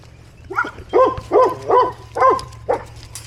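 Two dogs bark back and forth while playing outdoors: six loud, close barks in a steady, evenly spaced rhythm over a low constant hum.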